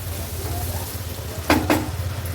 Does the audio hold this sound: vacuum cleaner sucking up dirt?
no